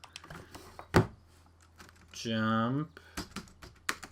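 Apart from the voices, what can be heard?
typing on a computer keyboard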